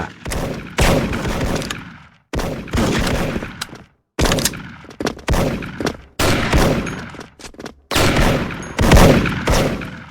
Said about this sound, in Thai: ใครยิงวะเนี่ย